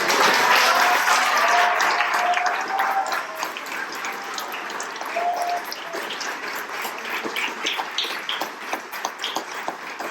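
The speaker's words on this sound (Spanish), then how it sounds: "les quiero pedir el último aplauso para el autor de la obra." Applause from an audience honouring the author at the launch of a historical novel, a dense steady clapping that starts full and gradually thins out over about ten seconds, with no talking over it.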